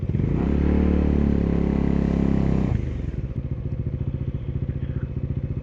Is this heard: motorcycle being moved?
yes